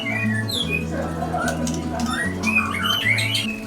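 A white-rumped shama (murai batu) calls with a run of sweet whistled notes and sharp squawks over a steady low hum, a mix of birds and background noise around it.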